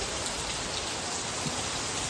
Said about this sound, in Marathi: आणि पाऊस जोरदार चालू झाला